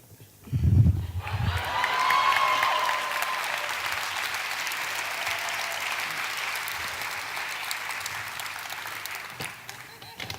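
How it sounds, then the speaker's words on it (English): A novelty applause machine called the Applause Machine Mega plays back recorded applause, a dense steady wash of many clapping hands with some cheering that swells in after a brief thump and holds loud for about nine seconds. "Let me introduce to you the Applause Machine Mega."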